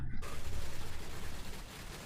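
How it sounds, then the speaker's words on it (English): A dense, continuous rumble of rapid blasts and gunfire-like pops from loot explosions in the video game Torchlight Infinite fills the clip, loud and sustained without pause. "That's where these explosions come from."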